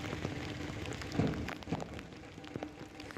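Steady rain hissing down, with scattered drops and soft thuds over a constant wash of noise.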